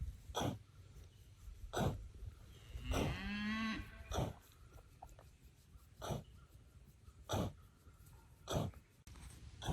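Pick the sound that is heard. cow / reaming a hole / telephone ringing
cow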